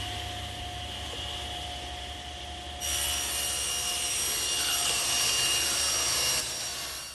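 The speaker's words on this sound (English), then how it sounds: "now I'm going to rip it on the table saw" A table saw runs with a steady hum, then rips a board for a bookcase; a louder, rougher cutting roar rises near the middle and lasts a few seconds before easing back to the idle whine.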